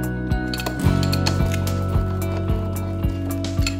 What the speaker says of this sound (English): use the roller to get all the air bubbles out